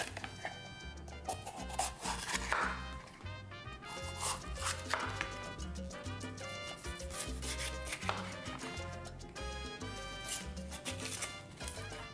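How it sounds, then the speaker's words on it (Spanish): A knife cuts around a bell pepper to remove the seeds, making repeated rhythmic rasping, scraping strokes that sound close and fairly quiet, with a steady pulsing texture throughout. "Vamos cortando alrededor."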